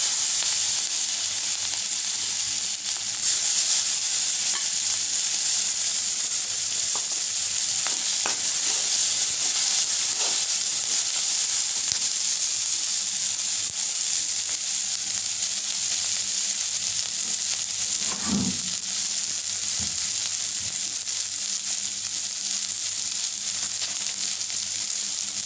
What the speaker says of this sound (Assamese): এয়া মাছ ভজা তেলখিনিত মই পিঁয়াজ দি দিছোঁ।